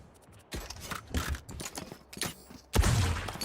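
Rapid bursts of gunfire in a shooting video game, several quick volleys of sharp shots spaced across a few seconds, the last one loudest, fairly quiet overall with no talking.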